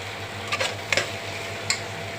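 Okra curry with chili powder fries softly in a pan, a faint sizzle under a few light scraping taps of a spoon stirring against the metal.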